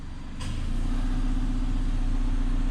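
A 2003 Subaru Baja idles steadily in park with the AC switched on, a low, even engine hum that swells slightly and then holds a constant drone with no voices over it.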